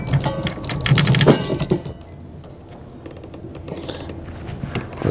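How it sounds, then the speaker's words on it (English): A Lofrans Tigress anchor windlass has its clutch released, giving clattering metallic ratchet clicks and rattling chain paying out, close and loud at first, then fading into a softer mechanical rattle. "We'll release the clutch, let out some chain."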